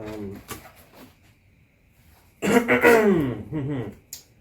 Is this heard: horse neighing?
no